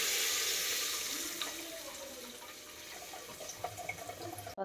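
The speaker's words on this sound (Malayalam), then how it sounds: "ഇതിലേക്ക് നമ്മൾ പുളിവെള്ളം ഒഴിക്കണം." Tamarind water is poured into a pan of chilli powder being roasted for Kerala puliyinchi, a steady close liquid splash and trickle that runs for several seconds and eases slightly toward the end.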